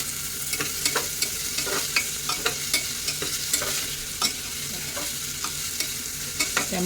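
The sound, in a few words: tomatoes sautéing in oil with onions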